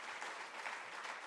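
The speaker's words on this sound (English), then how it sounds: "Can we give a round of applause to South Africa for that?" A conference audience at an investment summit gives brief, faint applause, a soft, even patter of clapping from a distance.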